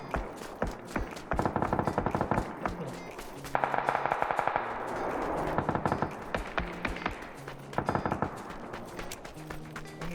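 Automatic gunfire in the video game PUBG, rapid bursts of shots, some sustained and some short, with quieter shots between and players talking occasionally.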